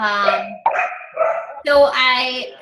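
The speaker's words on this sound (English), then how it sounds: "somebody else's dog is saying get on" A nearby dog barks and yelps in a few loud, drawn-out, tonal bursts, close to the microphone and dominating the moment.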